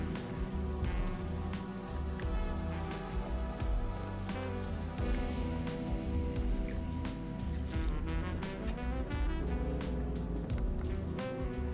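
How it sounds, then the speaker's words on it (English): Rain Dance move in a Gen 4 Pokémon video game battle: a steady patter of rain effect blended with looping battle music, moderately loud and continuous with no talk. "I'm going to move into a Rain Dance"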